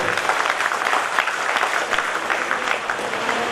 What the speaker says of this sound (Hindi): जबरदस्त ताली हम सभी के लिए